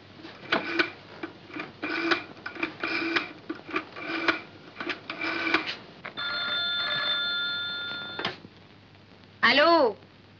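An old telephone bell in an office scene from an Egyptian comedy film rings in repeated rhythmic bursts, loud and close, followed by a few electronic tones and a short whistle-like sweep.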